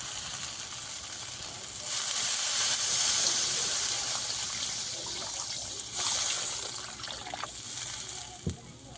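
Water poured into a pan of spice masala being fried in oil for a Bengali shol fish kalia with peas, bursting into a loud sizzling hiss at about two seconds and again near six, then settling into a steady bubbling fry.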